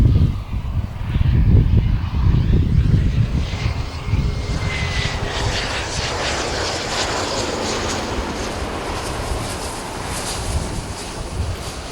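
A Gulfstream business jet taxis at St. Kitts airport, its engine roaring loudly at first, then easing into a sustained whine and rushing drone with some wind buffeting at the microphone.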